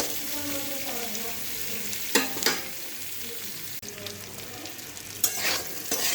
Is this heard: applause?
no